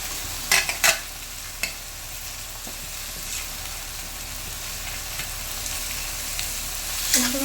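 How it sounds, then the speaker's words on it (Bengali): Chopped bottle gourd goes into hot oil tempering, giving a steady soft sizzle with a few sharp clatters of stirring near the start and end. "এরপর কুচিয়ে রাখা লাউ আমি ফোড়নে দিয়ে দেবো আস্তে আস্তে।"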